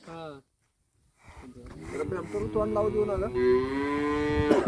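A cow lows in a long rising moo after a brief earlier call, close and fairly loud, with a voice near the start.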